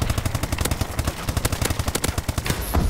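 Automatic gunfire in the video game Call of Duty: Advanced Warfare, with the ASM1 firing rapid, evenly spaced loud bursts in a steady rhythm for nearly three seconds, no voices.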